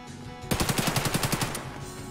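Automatic gunfire in the video game Escape from Tarkov: a rapid burst of about ten evenly spaced loud shots, each with a sharp crack and a low thump, lasting about a second after a quiet lead-in.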